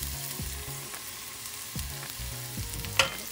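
Mustard seeds popping and spitting in hot oil while tempering for fish molee, a steady close frying sizzle broken by a few sharp pops, one louder crack near the end.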